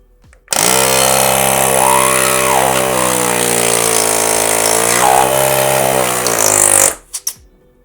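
A BOROFONE FC1 portable air compressor pumps with a loud, steady motor whine for about six seconds, then shuts off automatically on reaching 2.2 atmospheres. Only brief clicks follow.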